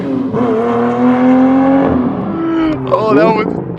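A Lamborghini Murcielago V12 with a new straight-through exhaust lacking an X-pipe revs loud and close, its pitch climbing then dropping over a few seconds of part-throttle, with voices talking over it.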